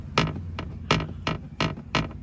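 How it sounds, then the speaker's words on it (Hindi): A loose interior part in a Skoda Kushaq knocks against the door as the car vibrates, giving a series of about six sharp, close rattling taps in an irregular rhythm over a low hum. "जब इस टाइम में वाइब्रेट करता है तो ये इस डोर के साथ टकरा के नॉइज, रटलिंग नॉइज क्रिएट करता है"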